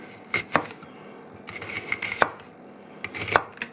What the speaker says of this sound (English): Now with the rest of it, like so, we just want to slice that really thinly.